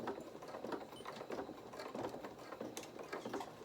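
A domestic sewing machine stitches a few stitches forward and back on fabric while making a doll, a steady close mechanical whirr with rhythmic needle clatter running throughout.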